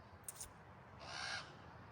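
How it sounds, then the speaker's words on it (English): Crows calling around a felled tree with a massive crown, a short faint burst of cawing early on and a brighter, louder call about a second later over steady outdoor background noise. "Listen to the freaking crows"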